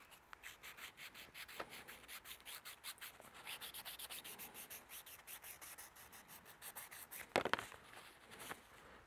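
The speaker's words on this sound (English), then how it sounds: "I'll just use this nail file for this." A nail file rubs rough burrs off a secateur blade in quick, faint, rhythmic scraping strokes, repeated steadily throughout, with a sharper scratchy burst near the end.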